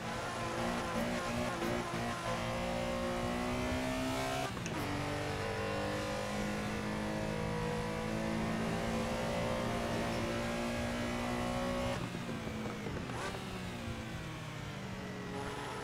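A Porsche Carrera RSR engine in Assetto Corsa screams at high revs, loud and continuous, with sharp blips and drops in pitch as it downshifts around the five- and twelve-second marks, heard from onboard with no talking.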